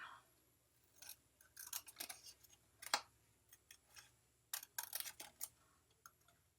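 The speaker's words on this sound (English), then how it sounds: "So let's quickly cut these out." Scissors snipping paper card pieces for a Halloween pop-up card, a series of short crisp cuts in irregular bursts, close but quiet, with no talking.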